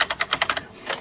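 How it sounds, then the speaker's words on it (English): Quick keystrokes on an Aula F2088 Mac Edition membrane keyboard, a rapid run of soft, muffled clacks up close, a short pause, then a few more presses. "The keys don't actually sound all that bad, although they do sound kind of membraney."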